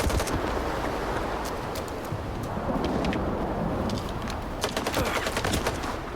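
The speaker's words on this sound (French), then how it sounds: "il tire au travers d'un mur en béton" Sustained automatic gunfire from the video game Stalker 2, shot through a concrete wall, forms a dense, loud rattling barrage of rapid bursts with no pause for about six seconds.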